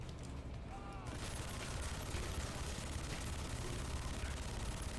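Dense, continuous gunfire in the video game Narco Terror, a rolling fusillade of shots over a busy game soundtrack lasting the whole few seconds.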